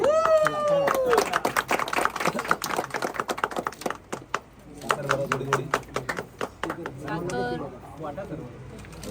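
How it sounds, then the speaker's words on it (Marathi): Guests clap in bursts at a Marathi engagement ceremony, sharp overlapping claps scattered through lively chatter and a raised voice, with a short renewed round near the end. "टाळ्या"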